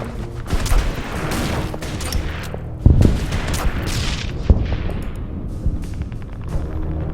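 Gunfire and explosions from an attack in the video game Order of Battle, set on the road to Manila, with a dense fusillade of shots and booms rolling throughout, loud and busy.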